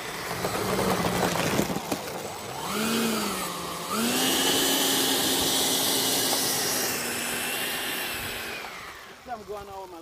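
A Tap Hobby Viper Jet RC model jet's turbine engine runs close by, its whine rising in pitch then holding a loud, steady roar with a broad hiss before easing off at the end.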